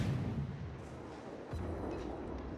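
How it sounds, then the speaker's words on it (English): Naval artillery fires in the World of Warships video game, heard as faint, distant deep booms and rumbling within a constant low wash of game noise. "Taking a pot shot at the York while I move towards the König."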